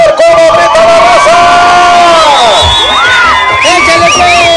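A crowd shouts and cheers at a jaripeo rodeo in Mexico, a loud, sustained roar of many voices with whoops and yells rising and falling close by.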